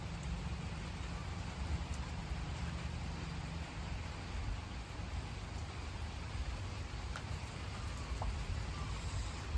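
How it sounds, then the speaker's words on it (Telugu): Light rain drizzles steadily outdoors at a village-style cooking spot, a soft continuous hiss of drops with no talking. "చిట్టపట్ట చినుకులు పడుతుంటే"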